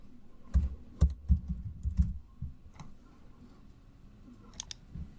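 Someone types a file name on a computer keyboard with a short run of close, distinct key clicks, then a few scattered taps in an otherwise quiet room.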